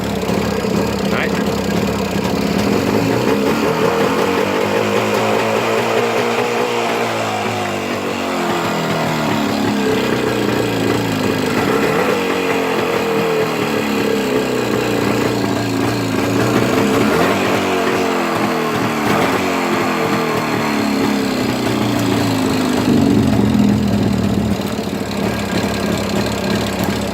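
An old, badly vibrating Jawa 350 motorcycle runs after a cold start following months of storage, its engine chugging loudly and unevenly, with the rhythm surging and dipping over long stretches and a voice talking now and then.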